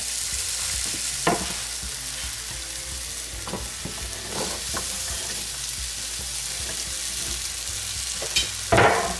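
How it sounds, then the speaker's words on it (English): Potatoes hit hot oil in a skillet and fry with a continuous close sizzle, broken by a few sharper crackles and stirring scrapes, with a louder burst near the end. "Skillet is hot. So I am going to put all of my potatoes into my skillet."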